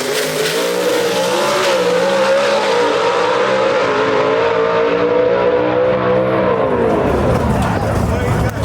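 A red, white and blue Seville gasser drag race car launches at Shadyside Dragway, its loud engine roaring and climbing in pitch for several seconds before the note drops away near the end.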